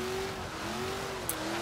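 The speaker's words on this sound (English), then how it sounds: "See if we can get a little drifty action going on here." Ford Foxbody Mustang in Forza Horizon 3 drifting, a steady engine drone with a sustained thin tire squeal running throughout, loud and close with no talking.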